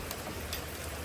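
Steady rain from a tropical storm pours down in a dense, even hiss, heard close and uninterrupted with no voices.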